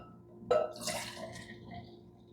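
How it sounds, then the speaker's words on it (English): Green chlorophyll drink poured into a glass: a sudden splash and trickle of liquid that fades over about two seconds, close and fairly quiet, with no talk. "So let's pour it into this glass here."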